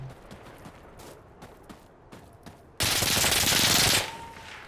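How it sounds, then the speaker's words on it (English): An M16A4 rifle fires in the video game Insurgency: Sandstorm: scattered single shots first, then a loud sustained burst of rapid automatic fire lasting about a second before it tails off. "Jesus Christ, that thing fucking rips"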